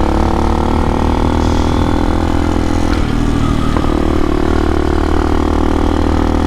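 Amazon X-Pro motorcycle, a KPM 200 or Hawk 250 DLX, heard while riding: a steady, loud engine drone with a prominent exhaust note, continuous and close throughout, with wind noise and no talking.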